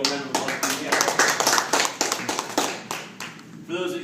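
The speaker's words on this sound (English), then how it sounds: "So a big old round of applause for you guys." A round of applause at a real estate group event for a property deal, with dense clapping throughout and talk over it.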